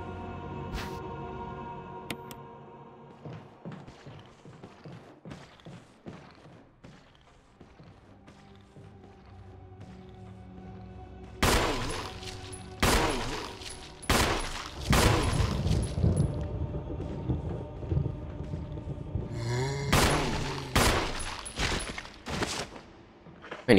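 Gunshots in the video game Resident Evil HD Remaster with Jill: sparse sharp reports early, then a heavy cluster of loud, booming shots and impacts in the second half, some rapid and some spaced apart.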